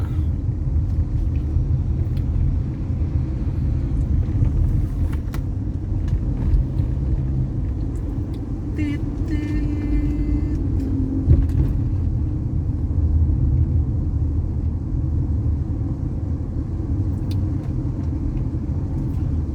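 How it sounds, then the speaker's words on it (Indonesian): Heavy vehicles and contract lorries rumble past on a bumpy night road in Malaysia, a continuous low engine drone with steady traffic noise and no talk. "banyak kendaraan berat yang melalui, seperti lori-lori kontrek"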